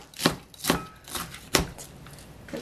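A knife chops through cabbage on a cutting board for japchae, three sharp, distinct thuds spaced irregularly, close and clear with no talking.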